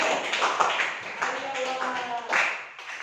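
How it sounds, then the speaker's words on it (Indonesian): Students in a classroom clap briefly for a classmate, a short scattered patter of hands with a voice speaking over it. "tepuk tangan untuk Najla."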